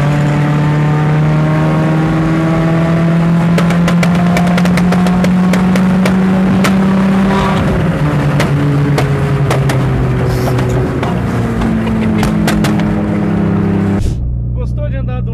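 A Mitsubishi Lancer Evolution X on a São Paulo street accelerates with a loud, steady engine note that climbs in pitch through the gears, close and continuous, then cuts off sharply near the end, with voices faintly underneath.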